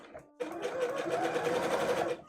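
A sewing machine stitches fabric for a homemade outfit in a close, steady mechanical whir that starts abruptly and runs continuously for about two seconds, with no talking.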